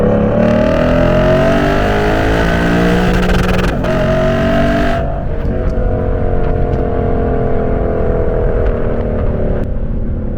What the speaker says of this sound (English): high-pitched, linear building, beautiful sounding V8